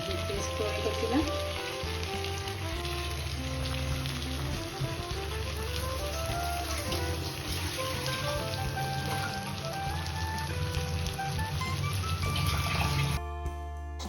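Spice paste frying with mutton in oil sizzles and crackles steadily throughout, under a continuous layer of background music.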